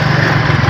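A motorcycle engine drones steadily up close while ridden along the Ravi river, a loud, even, buzzing hum over a brief moment with no voices.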